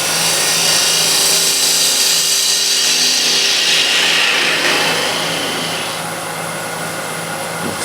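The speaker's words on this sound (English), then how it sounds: "Now I want to true up the face here. Again, spindle gouge." A spindle gouge trues the face of a wooden piece spinning on a lathe, giving a loud, steady whirring hiss with an underlying motor hum that eases slightly near the end, no voices.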